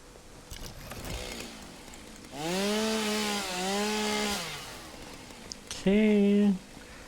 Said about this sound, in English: Should be good enough for my chainsaw